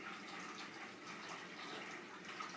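Warm water pouring from a jug into a 3-quart mixing bowl, a steady close splashing rush of liquid that continues evenly throughout with no talking.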